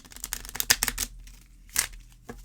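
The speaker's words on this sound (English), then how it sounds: "let me try to give this another shuffle" Thickish Kipper fortune telling cards being shuffled by hand, a quick burst of crisp riffling snaps followed by a pause and a second short flutter, close and clear with no talk.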